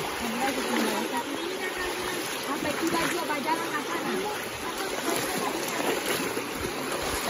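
A mountain river flows in a valley, a continuous rushing, babbling water sound at moderate level throughout, with voices heard faintly over it.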